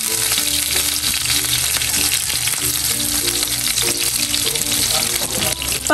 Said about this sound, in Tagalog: Pag kami po ay nagpiprito ng talong ay inuuna po muna namin na ito pong kulay violet.